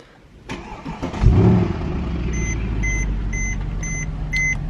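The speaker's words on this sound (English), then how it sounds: "So we're going ahead and start the car up." A car engine cranks briefly and catches with a loud surge, then settles into a steady idle while a series of regular electronic chimes beeps above it.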